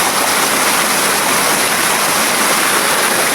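Water rushes in a stream with a steady, dense, full roar, loud and close, continuing without a break and without voices.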